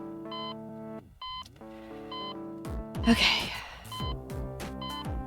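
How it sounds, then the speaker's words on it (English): Beeping in the hacking video game Hacknet, a repeating electronic tone pattern that sounds in evenly spaced bursts over background music, with a brief spoken word partway through. "why is the beeping in the background?"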